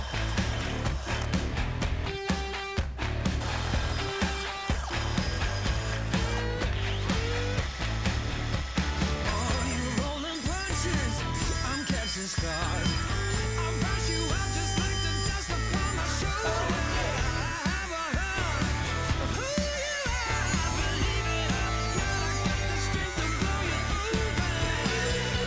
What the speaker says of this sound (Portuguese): Agora eu passo uma broca mais grossa